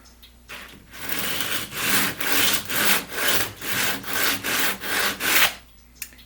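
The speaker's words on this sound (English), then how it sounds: "I'm just going to take some 100 grit here, and I'm just going to sand down until I get to the wood" Wood being sanded by hand with 100 grit sandpaper for a large clock build, giving about a dozen steady, rhythmic rasping back-and-forth strokes, close and loud, with no talking.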